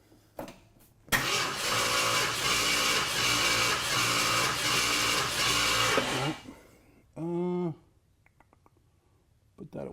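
A car engine cranks steadily for about five seconds without catching during a compression test, then stops; a brief voice follows.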